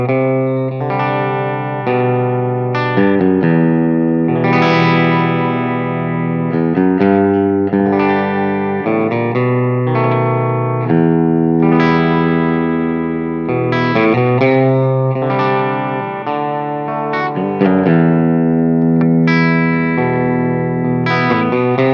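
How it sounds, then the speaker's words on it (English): Electric guitar through a Dr. Z Maz 18 amp, bridge pickup, playing chords and melodic lines, drenched in a bright Universal Audio Golden Reverb plate setting with long shimmering tails and some grit; no talking. "here's a little golden reverb, Universal Audio golden reverb I got on the plate setting"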